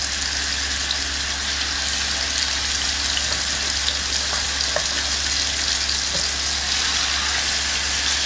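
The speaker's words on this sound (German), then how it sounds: "Pfanne, minimal Öl, Fleisch. Einfach nur einmal kurz von allen Seiten anbraten." Chicken breast sears in a frying pan with minimal oil, a steady close sizzle and crackle running throughout with occasional sharper pops and a low hum underneath.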